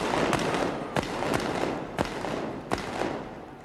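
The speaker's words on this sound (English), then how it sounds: "Fire the gun." Royal Navy field gun fired at the competition, four sharp booming reports spaced about a second apart, each cutting through a loud, continuous crowd roar.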